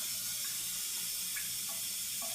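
Water runs from a Kohler handheld shower head as a steady, soft hiss of spray, even and continuous, at a moderate distance with no voices.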